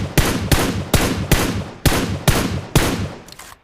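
Gunfire in the mobile battle royale game PUBG Mobile: eight sharp, evenly spaced single shots over a few seconds, each with a short decaying tail, loud and close with no talk over them.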